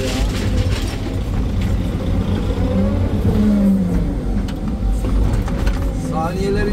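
An excavator loads a truck on an excavation site while its diesel engine revs hard in loud, sustained surges, with grinding mechanical noise and someone talking over it.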